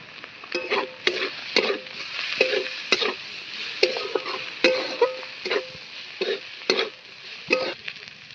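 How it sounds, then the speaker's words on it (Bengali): Potatoes with dried fish are stirred in a pan with salt, turmeric and chili powder, giving a faint sizzle under a string of sharp, repeated scraping and clanking strokes of a spoon against the pan, close and fairly regular. "মশলাগুলোর সঙ্গে আলুটাকে ভালো করে কষিয়ে নিয়ে"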